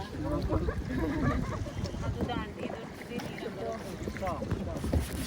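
A kayak out on a river at Dandeli, with water sloshing and paddle splashes close by against wind buffeting the microphone, while people talk over it most of the way through.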